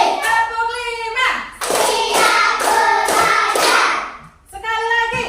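An ice-breaking clap game in which a group claps in time to a called count: several crisp, evenly spaced bursts of clapping sit between stretches of a voice speaking.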